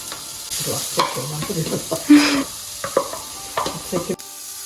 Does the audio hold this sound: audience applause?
no